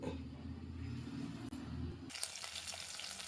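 Curry leaves and green chillies hit hot coconut oil for an Eid dish, bursting into a loud, steady sizzle after a low background hum.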